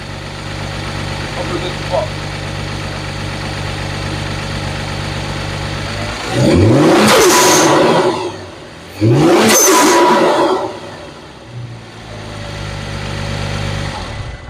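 A Kia Stinger engine with an HKS blow-off valve idles steadily, then revs hard twice in quick bursts, each ending with a sharp hissing release, before settling back to idle.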